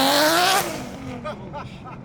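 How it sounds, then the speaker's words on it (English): A highly modified four-door Nissan R32 rips past on the road, a loud rising engine rush that peaks early and then fades quickly into softer road noise. "I just had a guy in a 4-door R32, I would assume quite highly modified, just rip past us"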